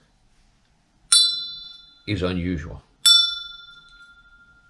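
An antique iron horse harness bell, its clapper missing, rings twice with sharp, bright strikes that each decay over about a second, with a short stretch of speech between the two rings.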